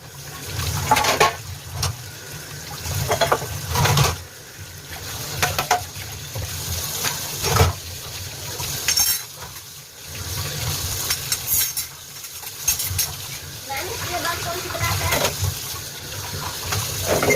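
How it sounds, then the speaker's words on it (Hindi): Dishes are washed by hand under a running tap, water splashing and gushing in uneven bursts with clinks of utensils between, close and moderately loud, no talking. "जल्दी जल्दी बर्तन धो लेती हूँ।"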